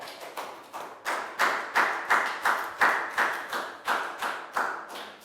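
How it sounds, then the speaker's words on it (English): A Year 3 classroom gives a student a round of applause, with about a dozen rhythmic claps in unison, evenly spaced and moderately loud. "Big round of applause for Prel."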